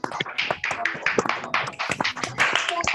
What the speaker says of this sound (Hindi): एक बार अनम्यूट करें अपने आप को और जोरदार तालियां हो जाए